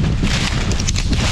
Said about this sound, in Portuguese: Mano, ó o vento. Parece que tá aumentando, Lucas.